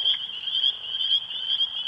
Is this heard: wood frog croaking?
yes